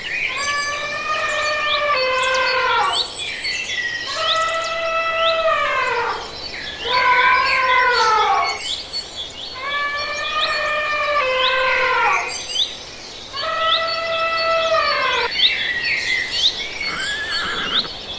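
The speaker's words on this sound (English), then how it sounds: "elephant," An elephant trumpets four times in a row, each blast a loud, long, wavering call of about two seconds, separated by short pauses and heard up close without any voices.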